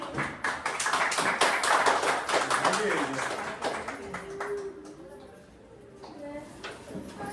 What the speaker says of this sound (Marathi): ताईंसाठी जोरदार टाळ्या होऊन जाऊ देत